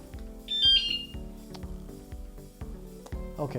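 Wsdcam electric bike alarm on a Lectric e-bike giving a single short high electronic chirp as it disarms, close and clear, followed by light clicks and handling sounds.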